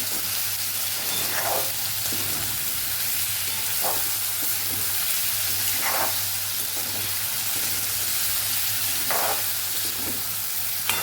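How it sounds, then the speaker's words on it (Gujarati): Cauliflower frying in a shallow layer of oil in a pan gives a steady, loud sizzle throughout, with a few sharper spitting bursts and stirring scrapes at intervals. "તો બધી સાઈડથી સરસ આપણે ફ્લાવરને ફ્રાય કરી લેવાનું છે"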